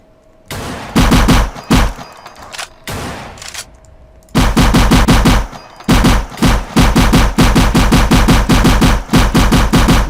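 Rapid bursts of automatic gunfire from an alien shooter in the video game Cosmic War Tycoon, loud and close, in short clusters and then a long sustained string of shots.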